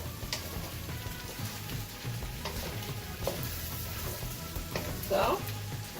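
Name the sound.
stirring Beijing beef sizzling in a pan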